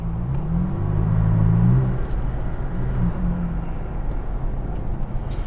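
A 2018 Toyota Tacoma TRD Pro pickup with a TRD exhaust tip gives a deep, close exhaust rumble that swells briefly as the engine revs, then settles back to a steady low burble.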